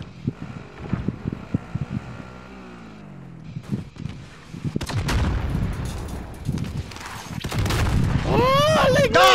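Cover fire rings out in a Call of Duty: Modern Warfare battle royale match: scattered gunshots amid wind noise and game ambience, building into louder, denser shooting toward the end, with voices in the background.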